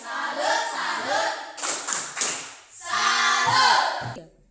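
A class of students chants together in unison with the 'tepuk salut' clapping routine, a burst of brisk claps in the middle between stretches of loud group voices.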